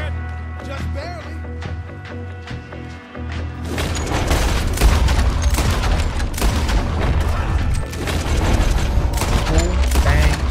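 Repeater rifle fire in the Red Dead Redemption 2 video game comes as a dense fusillade of rapid gunshots and booms over game sounds and music, while someone talks over the shooting.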